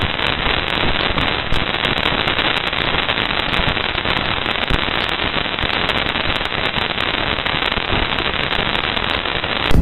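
Parker Solar Probe dust impact recording, a dense continuous crackling hiss like fizzing static with countless tiny pops, steady and loud throughout with no speech.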